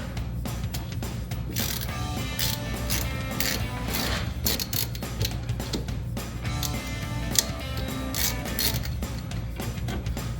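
Metallic ratcheting and clicking from a ratchet with a deep 15mm socket loosening a sway bar link on a 1994-2004 Mustang front suspension, close and steady with repeated rapid clicks and scraping.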